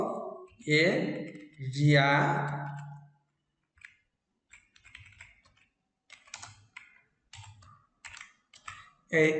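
Keys clicking on a computer keyboard while a Fortran program is typed, after a stretch of close speech; sparse irregular taps and short bursts of keystrokes, fairly quiet, with a voice returning briefly at the end.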